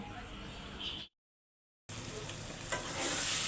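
Small boiled potatoes dry-fried in a pan in a home kitchen make a faint, steady sizzle with a muffled voice in the background and a brief dropout to silence partway through.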